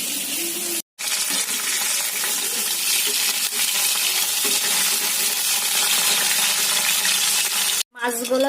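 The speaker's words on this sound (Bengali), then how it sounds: "একে একে সব মাছগুলোকে খুব ভালোভাবে আমি ভেজে নেব।" Tilapia pieces fry in hot oil, giving a loud, steady, close sizzle and crackle that runs throughout, broken by two brief silent gaps.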